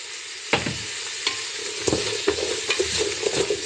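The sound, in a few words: onions sweating with salt in a pot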